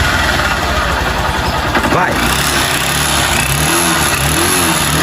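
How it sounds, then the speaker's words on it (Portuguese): A Honda Bros 160 motorcycle that smokes and may be low on oil idles loudly close by and is revved once, with people talking over the steady engine rumble. "Liga pra gente lá aquela moto."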